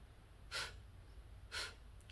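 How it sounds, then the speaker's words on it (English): Two short, forceful nasal exhalations in Kundalini breathwork, each timed with a pumping contraction of the navel, about a second apart against quiet room tone. "So you actively pump in the navel and you breathe out through the nose."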